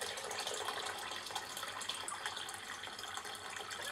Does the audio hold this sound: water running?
yes